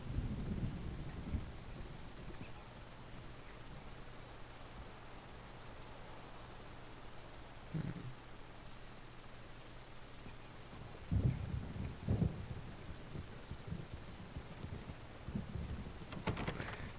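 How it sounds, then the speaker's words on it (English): Thunder from an approaching storm in the video game Alan Wake, faint low rumbles that swell and fade several times over steady rain-like hiss, with a soft low hum beneath. "The storm is almost here."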